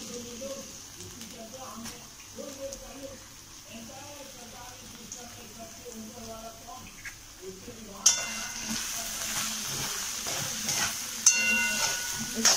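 Boiled grated carrots hit a hot pan partway through, and a loud hiss and sizzle of frying rises abruptly and keeps going at close range. Faint background sounds of cooking come first.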